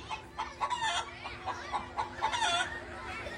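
A hen clucks and calls repeatedly in short bursts, fairly close, over faint background noise, at a village Home Minister Paithani game event.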